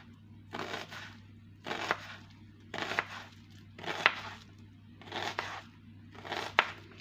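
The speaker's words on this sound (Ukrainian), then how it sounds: "я наріжу ось таким кубиком" A very sharp knife dices food into cubes, cutting through it in six regular, crunchy strokes about a second apart, each one close and distinct, with no talking.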